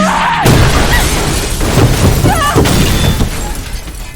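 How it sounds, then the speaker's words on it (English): A fiery explosion in the Resident Evil 3 Remake video game bursts loudly at the start, followed by a rumbling, crashing game soundscape that slowly fades. "Jill's then saved by Carlos' fiery explosion"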